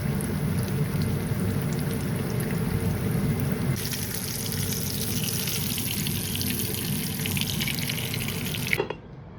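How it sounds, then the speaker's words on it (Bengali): Sweet potato pieces coated in salt and turmeric fry in hot oil, giving a steady loud sizzle that brightens and intensifies partway through, then cuts off abruptly near the end. "আমি ভেজে ফেলছি মিষ্টি আলু ভাজা।"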